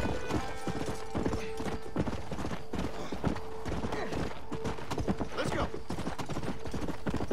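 Horse hooves clip-clop steadily in Red Dead Redemption, a brisk rhythmic trot of close, distinct strikes with a faint whinny and light creaks, while voices talk over the game sound.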